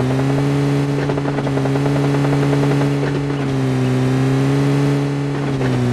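A vehicle engine in the video game PUBG Lite, a loud steady droning hum held throughout with slight pitch shifts as the car drives on.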